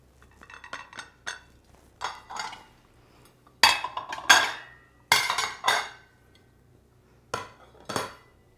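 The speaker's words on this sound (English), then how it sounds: "a little salad plate that I'm going to put on top of it" A small salad plate set down onto a Halloween table setting at a bed and breakfast inn, heard as a series of close, bright ceramic clinks and clatters in short bursts with quiet gaps between them.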